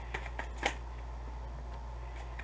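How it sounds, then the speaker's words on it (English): A deck of cards being shuffled, a few quiet crisp riffles and snaps near the start, with one sharper flick, then a faint steady background hum. "Just let me do some little bit of shuffling for us here."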